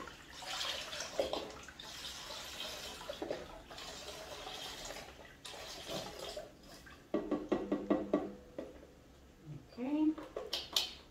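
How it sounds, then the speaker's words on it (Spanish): Water poured from a small cup into a pot of asopao on the stove, a brief splashing pour mixed with pot and utensil clatter while someone talks over it. "Y ahora yo le echo más o menos media tacita de agua."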